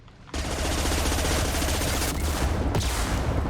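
Dense, continuous automatic gunfire from a Mass Effect 2 firefight, loud and close, rattling steadily with brief dips in intensity throughout.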